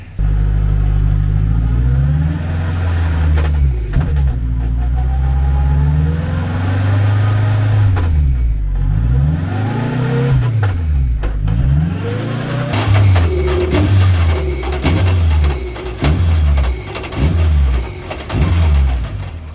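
A high-powered car engine on a dyno, unloaded, revs up and down in repeated loud sweeps with metallic rattling, then settles into a choppier burst of throttle blips and clattering toward the end.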